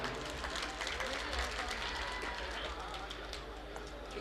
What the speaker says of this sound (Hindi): जोरदार तालियों से इस्तकबाल डॉक्टर शोएब साहब का।